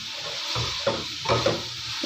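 Shredded cabbage and bell pepper go into a hot pan of chicken vegetable spaghetti, giving a close, continuous sizzle with a few soft knocks and stirring scrapes.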